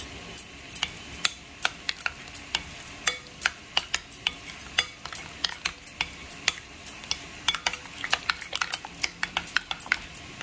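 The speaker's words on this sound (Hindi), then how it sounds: "मिक्स करेंगे इसमें अच्छी तरह से" Salt, cumin and chaat masala being stirred into a dish with a utensil, giving a steady run of sharp scraping clicks against the bowl, close and fairly loud, with no talking.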